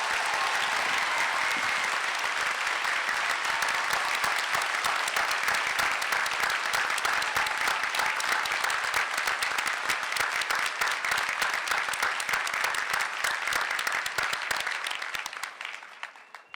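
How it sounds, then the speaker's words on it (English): A large audience applauds steadily at a University of Wisconsin law school hooding ceremony for the class of 2024, a dense, even roar of clapping held for about fifteen seconds before tapering off at the end. "one more round of applause for the UW class of 2024"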